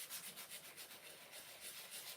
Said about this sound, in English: I am sanding this after I made sure it was very dry